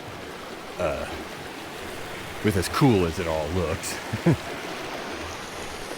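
A stream runs through a frozen box canyon in Colorado, giving a steady, close rush of flowing water that stays beneath someone talking for most of the moment.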